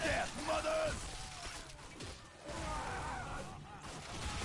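Gunfire in the first-person shooter Bulletstorm crackles as a dense, continuous barrage with sharper cracks, under a player's talk.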